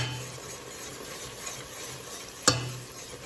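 Flour being stirred into a thickening chili relleno sauce in a pan, a soft continuous sizzle with gentle stirring and one sharp utensil clink near the end, close and alone.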